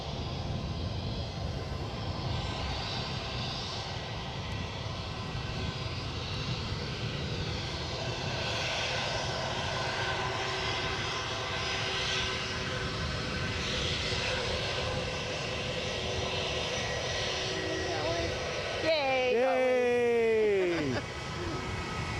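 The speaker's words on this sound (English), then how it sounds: "a rapidly taxiing, as you do now, Lufthansa A321 cutting in on the shot" A Lufthansa Airbus A321 jet taxiing at Edinburgh airport produces a low, steady engine rumble and hum that runs continuously at moderate distance, and a brief bird-like chirp cuts in near the end.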